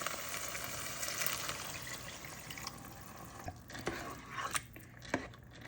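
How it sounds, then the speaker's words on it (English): Water runs steadily into a pot of rice, with a few light clinks and scrapes of cookware near the end; no one speaks. "now we're gonna add in 1 1/2 cups of water"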